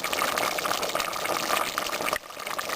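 A pot of vegetable soup coming to a boil, giving a continuous bubbling, watery rush at moderate loudness that briefly drops near the end, with no voices.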